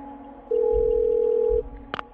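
An old telephone used in the video game Parasite Eve 2 gives a single steady electronic beep of about a second, followed shortly by a brief click, over a low hum.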